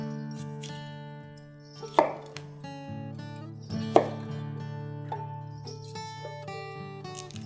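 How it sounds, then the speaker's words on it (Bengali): A kitchen knife cuts cauliflower into large pieces for a Bengali labra vegetable curry. Two sharp, loud chops land about two seconds apart against steady background music. "ফুলকপি বড় বড় করে কাটবে।"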